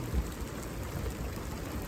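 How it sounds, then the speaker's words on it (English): Steady rain falls across the whole stretch, a dense broadband patter with low rumbling underneath, fairly faint and continuous with no voices. "Thank you for the rain."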